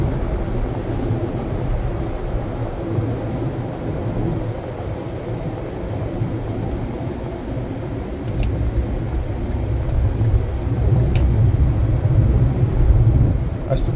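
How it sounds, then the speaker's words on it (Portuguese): A fuel tanker truck passes on a highway near Biguaçu, heard from inside a moving vehicle as a continuous low road rumble and engine drone that swells slightly toward the end, with no talk over it. "Caminhão aí levando combustível aí"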